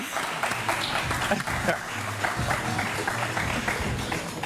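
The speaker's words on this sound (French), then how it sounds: "On les applaudit." Studio audience applauding on a television set, a dense, steady wash of clapping that holds throughout, with voices talking over it.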